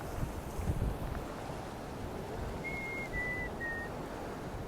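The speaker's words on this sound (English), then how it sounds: "And the wind." Typhoon Hato wind in Hong Kong roars as steady broadband buffeting against the microphone, with a faint high whistle briefly rising midway through, no talking.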